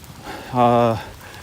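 Heavy rain pours down at night on the Ouachita Trail during a lightning storm, a steady hiss that runs throughout, with a short tonal vocal sound rising over it near the middle.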